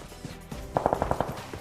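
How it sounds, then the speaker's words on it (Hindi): A short burst of rapid gunshots rings out from behind the player in a battle royale video game, about six evenly spaced shots fired in quick succession at moderate distance. "तो पीछे से गोलियां चलने की आवाज आती है"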